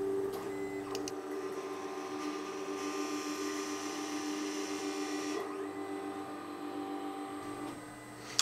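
An SPA grinding machine grinds a sample at its middle grinding station, a steady close mechanical whine with tonal hum that shifts pitch midway and tails off at the end, alone without talk.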